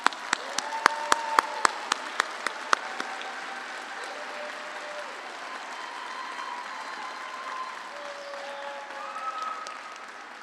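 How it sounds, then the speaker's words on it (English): Sharp scattered claps open, then settle into a steady spread of applause from a crowd at a graduation commencement ceremony, fairly quiet and distant. "Let's give a big round of applause to all of our master's graduates"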